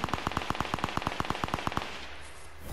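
Rapid automatic gunfire in Fortnite, a fast even burst of about fifteen sharp shots lasting under two seconds, then quiet.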